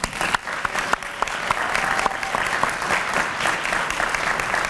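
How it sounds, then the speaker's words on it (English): An audience at a HOSA leadership closing session applauds steadily, a dense, continuous wash of clapping from a large crowd with no break across the whole stretch. "would we give a big round of applause to Haley Gorski from Michigan"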